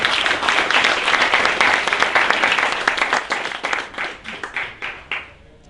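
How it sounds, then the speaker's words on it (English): An audience at a tech conference claps for a presenter, starting dense and loud and then thinning into scattered individual claps before fading out. "So please clap your hands for Grishi and his presentation."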